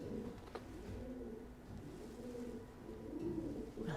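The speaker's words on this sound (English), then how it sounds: "We're being escorted up the stairs by 2 pigeons." Pigeons coo softly in a tight stone tower stairwell in Oxford, a low murmuring call repeated over faint background hum, fairly distant and quiet.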